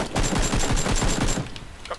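Rapid automatic gunfire rattles in a fast steady burst, loud and close, then stops abruptly, leaving a brief quieter tail.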